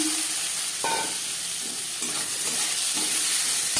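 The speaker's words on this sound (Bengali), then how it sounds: "15-20 সেকেন্ড 5 ফোড়ন তেজপাতা ভেজে নেওয়ার পর দিয়ে দেবো একটা টমেটো" Five-spice seeds and bay leaf sizzling in hot oil, with a tomato dropped in. A constant loud hiss runs under a few soft knocks and stirring scrapes, and a brief tonal ring comes near the start.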